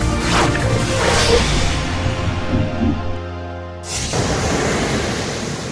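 Ocean waves washing onto a beach, a loud close surging rush that fades briefly and then swells again as another wave breaks.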